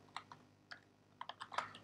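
Typing on a computer keyboard at a terminal, a handful of soft, close key clicks in an uneven rhythm, a short cluster near the end, with no talking.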